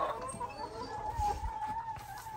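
Chickens cluck softly nearby, a few low, scattered calls over faint background noise.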